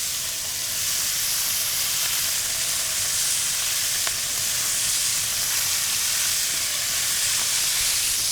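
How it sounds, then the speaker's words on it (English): Pork shoulder searing in a hot pan gives a loud, continuous sizzle with a steady crackling hiss and no talking. "Gently get our pork into this pan. You wanna hear that great sizzle?"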